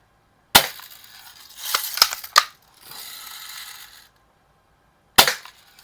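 An air gun fires at a target, producing a few sharp, close cracks and snapping impacts with a mechanical rattle and a hiss between them, and a final crack after a pause. No one speaks.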